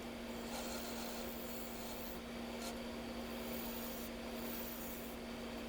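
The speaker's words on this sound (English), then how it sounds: "Finalizing the bottom here with the skew chisel before I start here with the parting tool to make the foot and the mortise." A skew chisel scrapes steadily across the bottom of a spinning wooden bowl on a lathe, giving a continuous soft rubbing rasp over the constant hum of the machine.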